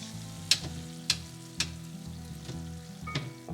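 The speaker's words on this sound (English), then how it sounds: "we're just going to keep moving them around so that they get fried on all sides" Homemade glazed donuts frying in hot oil, a steady low sizzle with a few sharper pops and splashes as they are turned over, close and alone with no talk.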